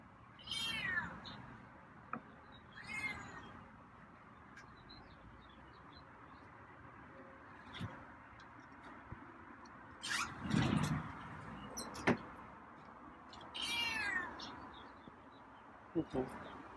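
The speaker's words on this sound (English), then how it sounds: "I think there were some light meows" Several soft meows from a cat come at intervals, close by, with occasional quiet rustles and a person speaking lightly between them.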